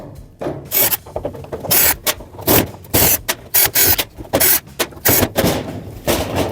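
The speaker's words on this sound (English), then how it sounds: "Now we have to remove all the screws are here." Screws being removed from the control panel of an LG washer, a series of scraping, rasping turns and short clicks in uneven bursts, close and fairly loud, with no speech.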